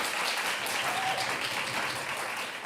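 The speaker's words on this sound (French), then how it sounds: "Si vous pouviez l'applaudir, s'il vous plaît, ce serait très aimable de votre part." An audience at a science-writing award ceremony applauds in a steady, even wash of clapping that holds for the whole stretch at moderate distance, with no voices over it.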